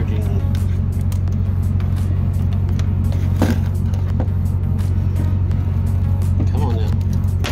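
A truck engine idles steadily at close range, a constant low rumble that holds without pause, with occasional faint clicks and movement on top.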